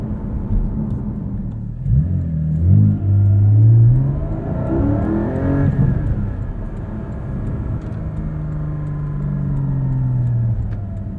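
A 2020 Porsche 718 Cayman GT4 engine pulls hard from inside the cabin, rising in pitch through a strong acceleration, settling briefly, then climbing again at steady close volume with no talking.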